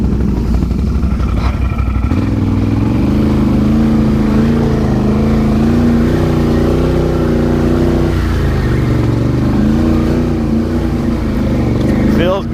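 A four-wheeler ATV rides a rocky trail near a mine cliff lookout, its engine a loud, steady, close drone that rises and falls slightly with revving and light clatter throughout.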